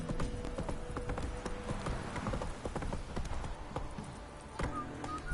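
Geralt's horse Roach galloping in The Witcher 3: Wild Hunt, a dense, steady run of close hoof clip-clops over game ambience and a low rumble, with a faint whinny possible.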